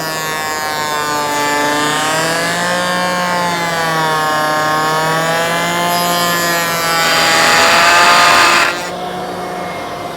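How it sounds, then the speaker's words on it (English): A power saw in a woodworking shop whines as it cuts a stub tenon, with a dust collector running. The tone sways in pitch, then a harsher cutting rasp swells before the pitch drops back to a steady hum. "Plug the power back in, turn on the dust collector, put on my safety glasses, and we're ready to try a cut here."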